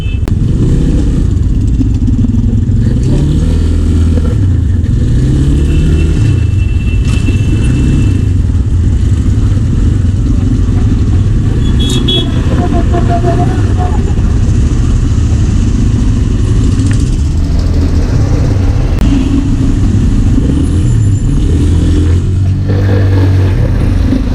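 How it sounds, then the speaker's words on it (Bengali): A vehicle engine drones loud and close while driving on Delhi roads by day, with steady low rumble, shifting revs and wind noise running throughout and no talk. "দিল্লির রাস্তায় দিনের বেলা চালাচ্ছি"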